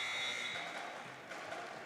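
A buzzer sounds at the end of a high school girls' basketball game, a sustained electronic tone fading out over crowd noise in a gym.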